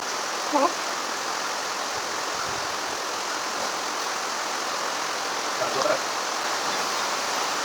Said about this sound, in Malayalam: ഇവിടെ നല്ല മഴയാണ് എന്നോട് കാറ്റടിക്കുന്നു